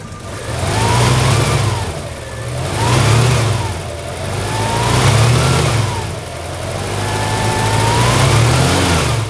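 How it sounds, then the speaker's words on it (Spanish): Chevrolet Chevy car engine running loud and close after a cold start, its revs rising and falling in slow repeated surges as it idles unevenly. "cómo arrancó, típico sonido del arranque del Chevrolet, del Chevy"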